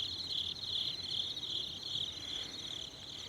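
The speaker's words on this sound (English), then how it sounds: "I don't hear anything but crickets" Crickets chirp steadily at night in a continuous high trill, with a faint low background hum and no voices.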